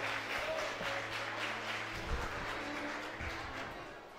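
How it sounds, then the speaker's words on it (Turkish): Audience applause at an association's tenth anniversary celebration in Dortmund, moderate clapping from a crowd in a hall, steady for a few seconds amid background hum. "Şöyle güçlü bir, kuvvetli bir alkış istiyoruz ha."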